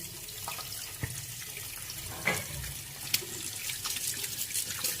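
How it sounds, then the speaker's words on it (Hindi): Tap water runs steadily with splashing and occasional knocks as a watermelon is rinsed under a faucet; no one speaks. "ये देखिए, इसको अब अच्छे से नल के पानी से धो लेंगे।"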